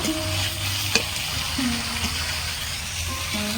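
Fried pointed gourd and lentils stirred and sautéed in a pan, giving a low steady sizzle with soft scraping stirs and a brief clink, close and fairly quiet.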